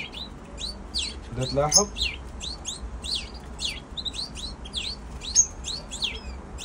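Canaries chirping in a cage, the mother feeding her chicks, with rapid high tweets repeating throughout, close by and fairly soft, and someone speaking briefly over them.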